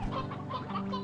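Chickens in the video game Slime Rancher 2 cluck in a quick series of soft, close clucks against a faint background hum.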